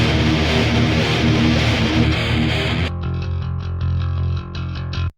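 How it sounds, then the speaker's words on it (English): Heavy distorted five-string electric bass riffs through a Trivium amp, with dense low growl, loud and steady, thinning to a cleaner, sparser tone partway through before stopping abruptly. "This is my bass."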